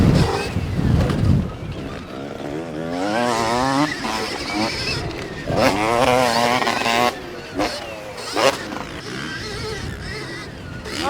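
A motocross dirt bike revs hard with rising and falling engine whines as it scrubs over a jump, heard close through a rider-mounted mic with heavy wind buffeting.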